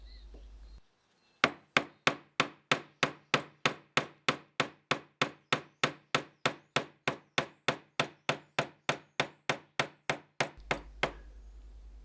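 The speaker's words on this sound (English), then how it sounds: "I'm going to use the chisel to chop across the grain to fit the second board" Mallet strikes drive a very sharp chisel across the wood grain for a half lap joint, about thirty crisp, evenly paced knocks in a steady rhythm, close and clear with nothing else heard.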